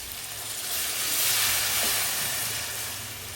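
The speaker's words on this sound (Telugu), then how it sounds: "ఇప్పుడు వాటర్ యాడ్ చేస్తున్నాం" Water poured onto mutton frying in a pan sets off a brief, close hiss of steam and sizzle that swells and then eases.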